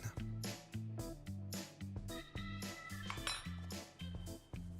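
Sugar and flour being mixed in a bowl for a Sachertorte: a utensil clinks rhythmically against the bowl in repeated ringing strokes at close range, with no other sounds.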